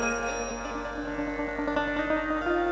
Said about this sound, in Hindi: तब तक घंटी महारानी बजने लगी, ton ton ton ton ton ton.